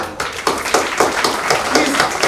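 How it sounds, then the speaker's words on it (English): Audience clapping at a school annual day, a close run of distinct, fairly rhythmic claps from a small group, with no talk. "Please clap."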